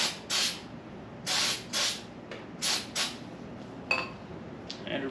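Short bursts of brake cleaner spray, about six hissing blasts in irregular pairs, close and fairly loud, followed by a few faint clicks and softer hisses, during a 6.0 LS engine build.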